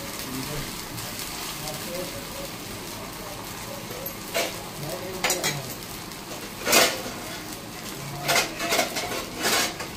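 Food pan-roasting until crisp over a low gas flame, with a soft steady sizzle under repeated clinks and scrapes of a utensil against the pan, and a person talking over it.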